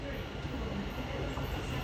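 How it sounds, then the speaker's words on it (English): LNER 225 set passing through Alexandra Palace on the East Coast Main Line, a brief steady rumble and roar of a train going by, with someone talking over it. "passing through now is an LNER 225 set en route from London King's Cross to Leeds"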